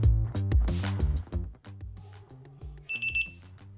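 Music plays throughout, with a short, high electronic beep from a LiftMaster 889LM smart garage door control panel sounding once near the end, clear above the tune.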